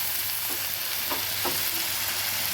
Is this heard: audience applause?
no